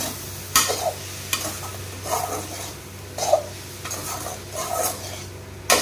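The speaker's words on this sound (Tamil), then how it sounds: "தயிரை போட்டு கொஞ்சம் நல்லா இது ஃப்ரை பண்ணிக்கலாம்." Okra frying with curd in a pan, a close crackling sizzle with repeated scraping stirs every second or so, moderately loud and without any voices.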